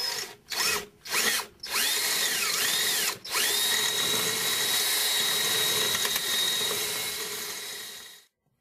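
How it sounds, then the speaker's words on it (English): A power drill bores out rivets on a Can-Am Commander with a 1/4 inch bit, starting in a few short bursts before settling into one long, steady whine that runs close and loud until it cuts off. "I'm going to go ahead and drill them out using a 1/4 inch drill bit."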